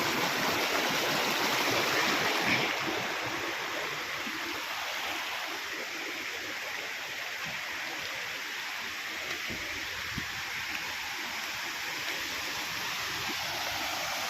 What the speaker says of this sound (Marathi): तर बघू शकता इथं पाणी वाहत आहे